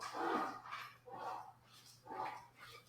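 Great Dane and pit bulls playing next door, with repeated medium-loud barks and yips in bursts of roughly half a second, separated by short pauses, a steady low hum underneath.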